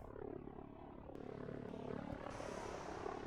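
Helicopters drone in from a distance in the strategy game Line War, a steady rotor and engine hum that holds at an even, moderate level under faint battle ambience, with no talking.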